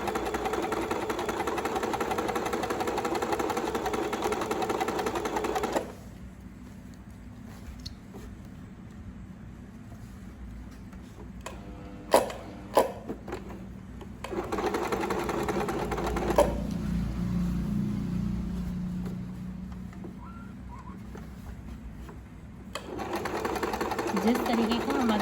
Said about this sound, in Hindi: अब मैं इसमें सिलाई लगाऊंगी।